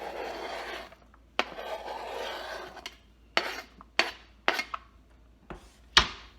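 Chopped cucumber, red onion and yellow zucchini squash are stirred together in a container: close scraping and rubbing strokes, interrupted by sharp knocks of the utensil against the container's side, with no voices.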